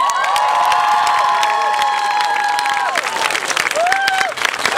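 An audience at a guitar festival bursts into loud, sustained applause and cheering, with whoops and shouts over dense clapping that thins toward the end.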